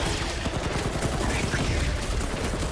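Rapid gunfire from weapons in Marvel's Guardians of the Galaxy game combat, a dense continuous barrage of shots that fills the whole stretch at steady loudness, with voices mixed in.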